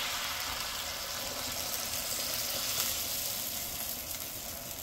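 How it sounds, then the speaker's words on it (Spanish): Vegetables and sauce for a chicken stew sizzle loudly and steadily in a pot while being mixed together, a continuous dense hiss with no voices. "Vamos a mezclarla bien, la salsa también."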